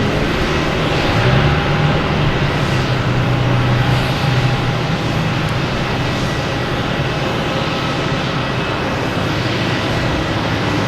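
An Austrian Airlines airliner at Boston Logan Airport produces a loud, steady jet engine roar that holds throughout without a break, close and dominant.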